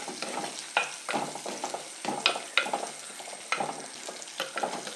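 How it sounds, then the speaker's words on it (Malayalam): Dried red chilies, chopped green chilies and curry leaves frying in hot oil for Kerala-style parippu rasam, a close sizzle broken by repeated spoon scrapes and stirring clatters, no voices. "അപ്പോൾ ഇത്രയാണ് നമുക്ക് ആദ്യം എണ്ണയിലൊന്ന് നന്നായിട്ട് വഴറ്റി മൂപ്പിച്ചെടുക്കേണ്ടത്."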